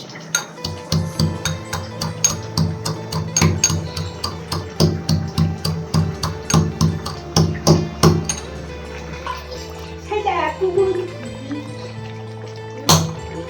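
A metal mortar and pestle pound spices for shukto in a steady series of loud, ringing clanks that continue for several seconds, then break into scattered scraping and a final strike.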